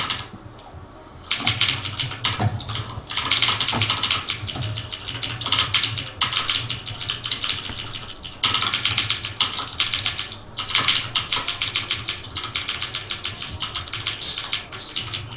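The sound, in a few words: typing on a loud computer keyboard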